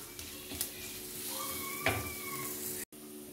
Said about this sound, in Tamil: நம்ம கொதிக்க வச்சிருக்க அந்த பருப்பு சாறில் நம்ம தாளிசம் பண்ணது எல்லாத்தையும் கொட்டிடலாம்